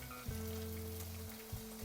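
Beans stir-frying in a hot pan, crackling from trapped water, give a steady sizzle with scattered pops throughout, alone without voices.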